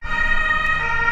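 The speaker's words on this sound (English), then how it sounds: "Or just like this German Rettungswagen or Ambulance." A German ambulance siren wails steadily and loudly at close range, its tones held throughout with a low road rumble underneath and no voices.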